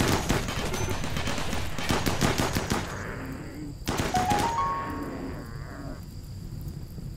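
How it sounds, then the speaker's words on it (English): Turrets in the RimWorld video game firing rapid bursts of automatic gunfire, dense and loud for about three seconds, then a pause and a second burst, with animal-like cries and game tones sounding between them. "Fortunately, that means that these turrets are free to fire again."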